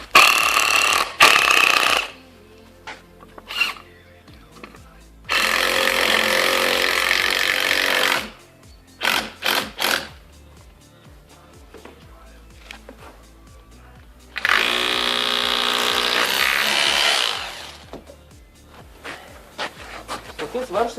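A power driver sinks wide-thread masonry screws, used without wall plugs, into a brick wall while lintels are fitted on a house under construction. Two long, steady, loud whirring runs of about three seconds each are separated by scattered knocks and handling noise.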